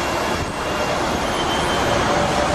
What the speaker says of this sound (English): And there's another tram in the distance now.